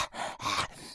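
A voice actor imitates a creature's ragged gasping breath: two or three harsh, breathy inhalations and exhalations, close and fairly loud, with no other talking.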